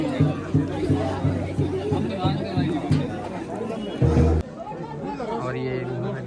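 A crowd queues at the Chalda Maharaj temple in Sirmaur, Himachal, with steady chatter and babble from many people nearby, occasional louder voices and bumps rising over the murmur throughout.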